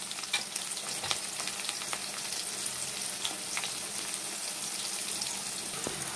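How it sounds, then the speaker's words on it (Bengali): Cut potatoes frying with salt and turmeric in a pan, a steady, even sizzle of hot oil with scattered small pops and stirring clicks throughout. "আমার আলুটা ভাজা হয়ে গেছে,"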